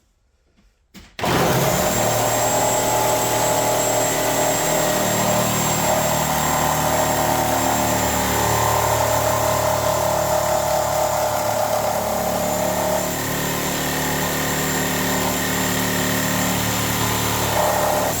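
Reciprocating saw fitted with a Lenox carbide demolition blade cutting through wood with nails, a loud continuous buzzing roar that starts abruptly and holds steady throughout without talk.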